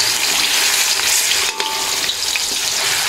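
Bananas fry with melted sugar in hot oil, a dense, loud continuous sizzle with occasional faint scraping as the pieces are stirred.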